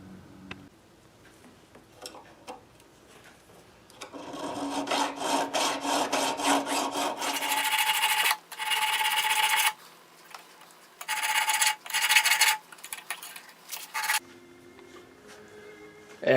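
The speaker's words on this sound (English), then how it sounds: "after filing I'll sand to break the sharp edges and have some nicely recrowned frets" Guitar frets on a Gretsch restoration being sanded by hand after filing to recrown them, a dry rhythmic rasping and rubbing in bursts of strokes, close and fairly loud with brief pauses between passes.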